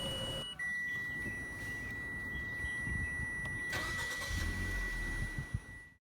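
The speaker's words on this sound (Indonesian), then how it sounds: "kita nyalakan dulu mesinnya ya bosku" A 2022 Mitsubishi Xpander Cross Premium Package starting up, with a steady electronic beep tone, then a short crank and the engine catching into a low, even idle heard up close before it cuts off.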